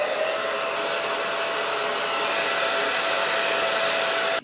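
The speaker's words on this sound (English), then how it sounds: "I'm going to go back over it with a blow dryer." A hair dryer blows steadily at close range over a lace frontal wig, a loud even whoosh with a faint whine, cutting off abruptly at the end.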